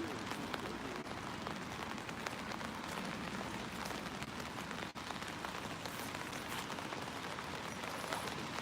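Rain falls steadily and softly on surfaces outdoors, a dense even patter of raindrops with faint distant voices underneath.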